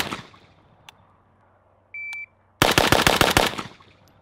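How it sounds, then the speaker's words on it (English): A Rifle Dynamics 704M AK rifle in 7.62 with a muzzle brake fires a rapid string of about eight close, loud shots in under a second, after a faint beep and a quiet lull. "When you're firing, it's just the bolt carrier just moving back and forth"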